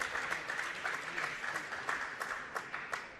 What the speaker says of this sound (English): Big cheer for something.